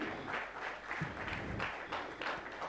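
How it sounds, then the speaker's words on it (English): An audience at a university event applauds a president coming on stage, a steady patter of many hands clapping, fairly faint and distant, with no voices over it. "make a round of applause for the president of Daystar University"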